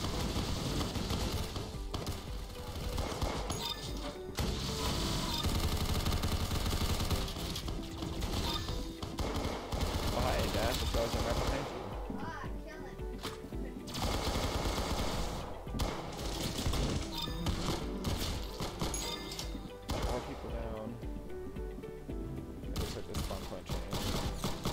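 Dense, rapid gunfire from a semi-automatic weapon in the Roblox game Arsenal, bursts of shots repeating almost continuously over game music and effects, loud and close, with brief quieter gaps.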